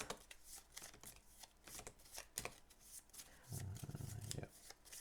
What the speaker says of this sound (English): I'm just gonna shuffle this one